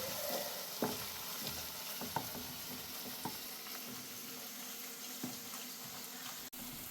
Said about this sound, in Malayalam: നല്ല പോലെ ഉപ്പുമുളകും മഞ്ഞളൊക്കെ ഇതിൽ പിടിച്ച് വരട്ടെ, അതുകൊണ്ട് നമുക്കിങ്ങനെ ഇളക്കി കൊടുക്കണം